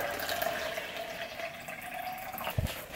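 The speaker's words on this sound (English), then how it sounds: "usually I always filter my water with a Brita" Water pours through a Brita filter in a steady, soft trickling stream close by, with a small knock near the end and no talk.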